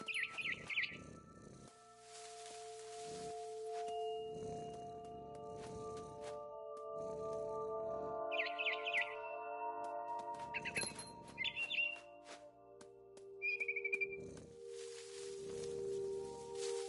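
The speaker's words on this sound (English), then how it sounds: "I heard chirping outside my window. It was a barn swallow going back to her nest." Bright, synthetic-sounding barn swallow chirps in a video game come in short bursts over a soft electronic tone bed, with steady background hum.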